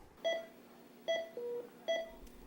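Telephone dialing sound effect: a short sequence of clear, close touch-tone beeps, about four distinct tones spaced evenly apart, heard alone without speech.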